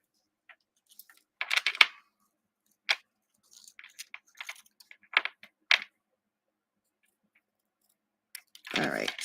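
Scissors fussy-cut a paper stamp in scattered bursts of crisp snipping and paper rustle close up, separated by silent gaps and with no talking.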